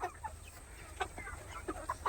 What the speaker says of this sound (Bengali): কালো মুরগিটা এ 45 দিন বয়স থেকে ডাকা শুরু করেছে